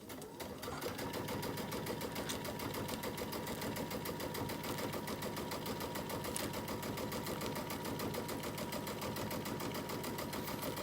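A sewing machine runs steadily while stitching a quarter-inch line, giving a continuous close mechanical whir with a fast regular needle rhythm throughout and no speech.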